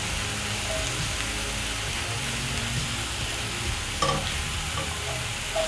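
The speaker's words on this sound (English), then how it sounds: "you're going to use your spatula to break off the lumps in the meat. Continue stirring." Minced beef frying in a pan while a spatula stirs and breaks up the lumps, giving a steady close sizzle with scraping stirs throughout and a couple of louder clinks near the end.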